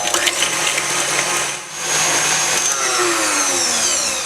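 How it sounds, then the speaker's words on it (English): An electric mixer whisks butter, sugar and egg for a chocolate slice, giving a steady, close, loud whirring drone with a brief dip midway and no talk. "next add the egg and whisk this about 2 minutes until"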